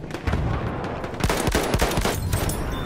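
Gunfire in the video game Battlefield 1, rapid sharp shots in quick bursts, loud and close, with a dense volley in the second half and no talking.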